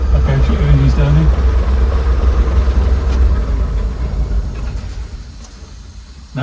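Class 117 DMU diesel engines idling at about 500 rpm, a steady low rumbling drone throughout with a brief low tonal note early on, while people talk over it.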